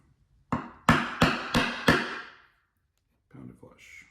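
A pop nail is driven flush with a hammer striking a nut driver set on its head: five sharp, ringing metallic blows in an even rhythm, close and loud, followed by a short pause and faint handling noise.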